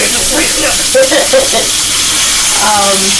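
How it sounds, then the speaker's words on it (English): Steady sizzling of food frying in a pan, a continuous crackling hiss with a few brief tonal clinks and a faint voice-like sound near the end. "so as y'all can hear, that's frying up."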